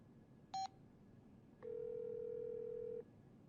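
A telephone dials a call: a short burst of dialing tones, then a steady dial tone holding for over a second in a quiet room, with no talking.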